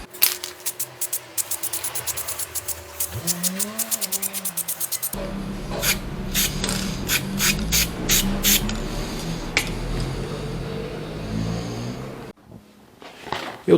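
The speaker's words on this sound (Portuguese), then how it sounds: "Eu vou pintar com spray preto" Black spray paint hisses from an aerosol can onto a PC case in repeated short bursts, followed by a longer continuous spray with rattling and scraping, close and fairly loud.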